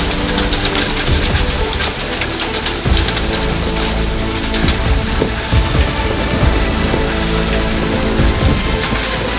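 Heavy rain hammers down in a sudden May storm over an old vegetable garden, a loud, dense, continuous patter with sharp drop impacts throughout and no talking.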